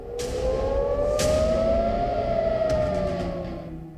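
A rising and falling air raid siren in Tel Aviv during the Israel–Hamas war wails steadily throughout, loud and sustained, with a few faint clicks or knocks in the background.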